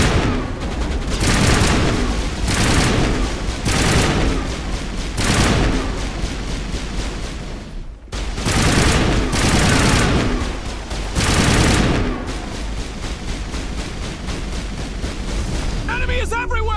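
Squad opening fire in a Shepard action game on Insanity difficulty: loud sustained bursts of gunfire and booming blasts in repeated waves, with voices calling out over the din.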